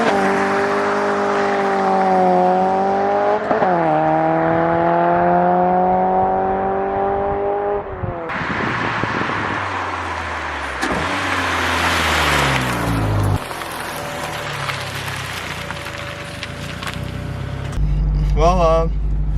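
Honda EK hatchback with a swapped B20B engine launching hard and accelerating: rising engine revs climbing through the gears, loud and close, with shifts and a passing roar, and a voice talking over parts of it.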